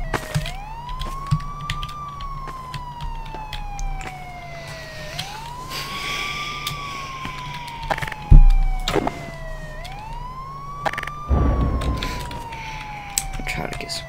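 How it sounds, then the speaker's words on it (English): Wailing sirens sweep up and down in a repeating cycle during a tornado survival game in Garry's Mod, steady and moderately loud, with scattered clicks and bumps of game noise underneath. "And the sirens are really getting annoying."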